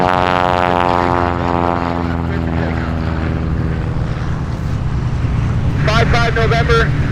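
A propeller airplane runs up and rolls for takeoff at EAA AirVenture Oshkosh, a loud steady droning engine with a strong harmonic hum throughout, while a tower controller's radio voice is heard over it.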